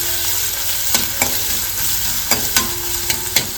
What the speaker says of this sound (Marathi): आपल्याला कांदा आणि आला लसूणची पेस्ट व्यवस्थित फ्राय करून घ्यायची.